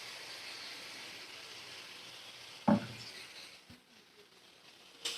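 Papaya and potato for a fish curry are stirred in a pan after water is added: a soft, steady simmer is broken by a couple of distinct utensil scrapes and knocks.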